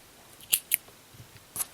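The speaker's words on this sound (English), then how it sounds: "Trim it off to about 6 inches." Scissors trimming crochet yarn for a scarf, a few quick crisp snips close by, then one more cut after a short pause.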